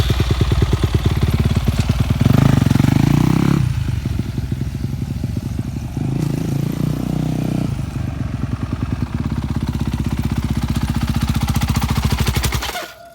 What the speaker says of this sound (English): this is what it'll sound like if you stop when you don't pull the clutch in